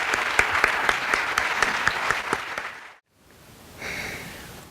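An audience at a poetry recitation contest applauds for the contestants, a sustained patter of clapping that cuts off abruptly near the end, followed by a quieter murmur of room noise.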